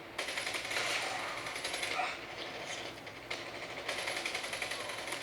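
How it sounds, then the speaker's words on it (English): A machine gun in a mobile shooting game on a Lenovo Legion Phone Duel fires in rapid continuous bursts with a brief lull partway through, dense and steady at moderate level. "All right, let's get a machine gun."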